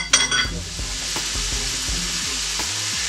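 Jalapeno and scallions sizzle in extra virgin olive oil for a turkey chili, a loud, steady frying hiss broken by a few stirring clatters in the pan, with no talking.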